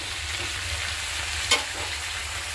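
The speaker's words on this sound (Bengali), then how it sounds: "সবজিটা হালকা ভাজা দিয়ে নিতেছি" Vegetables frying lightly in a pan give a steady, even sizzle, interrupted once by a single sharp utensil tap, with no speech.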